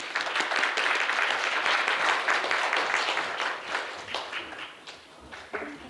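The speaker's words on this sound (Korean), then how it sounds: "많은 박수로" Audience applause welcoming a speaker at a forum panel on globalizing the Korean beauty industry: steady, moderately distant clapping from a seated crowd, continuous for about five seconds before fading and breaking up into scattered claps.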